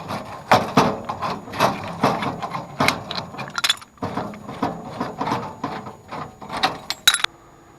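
A section of gas line is removed at a loosened union nut while a gas valve is replaced. Metal knocks and clinks come in close, irregular bursts, with a short pause midway and a sharp clink near the end.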